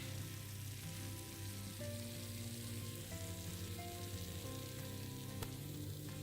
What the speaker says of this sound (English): If you can actually hear, they are sizzling slightly.